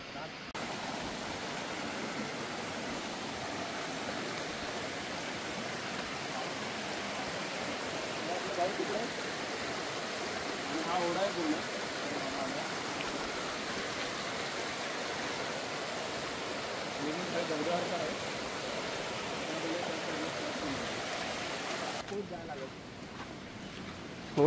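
A large river flows below the Sahyadri mountain range, making a steady, broad rushing wash of water that carries on throughout while voices talk over it.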